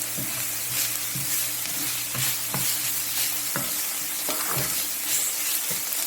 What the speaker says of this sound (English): You allow all of that to saute in there and let the onions become translucent.